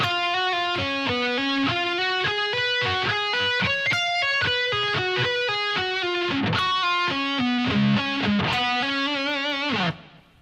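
Electric guitar lick from a song's solo, played slowly with distortion: a run of sustained single notes stepping up and down, with hammer-ons and pull-offs, ringing out alone before an abrupt stop.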